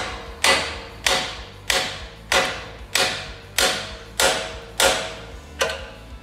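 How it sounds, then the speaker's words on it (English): A hammer strikes the steel steering spindle of a 2007-2022 Chevy Silverado or GMC Sierra 1500 to free the tie rod end: nine sharp, ringing metallic taps at a steady pace, close up, with no talk. "Hit right here on the spindle. Just give it some love taps."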